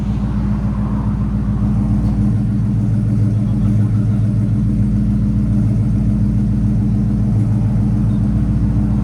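Steady, loud idle of a 2019 Ford F-250 pickup with a 6.2L V8, Borla S-Type exhaust and resonator delete: a deep, even rumble and a slight rhythmic lope, running continuously without revving.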